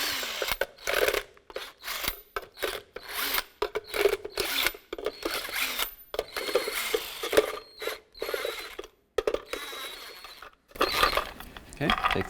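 Socket tool turning a wheel cover nut on a 2003-2021 Chevrolet Express 3500 van, heard as intermittent ratcheting clicks and metallic clatter in short bursts with pauses, close by; a voice speaks at moments.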